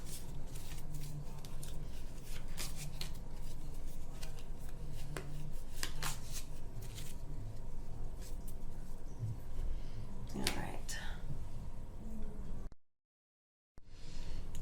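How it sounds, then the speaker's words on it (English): Repeated papery riffles and slaps of board game decision cards being shuffled by hand for a solo game of Stamp Swap, close and fairly quiet, in bursts, then a brief silence near the end. "Now we shuffle decision cards"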